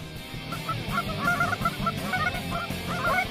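A flock of geese honks repeatedly at a moderate distance over low ambient noise, calls overlapping in a steady, busy chorus, heard outdoors during a waterfowl hunt.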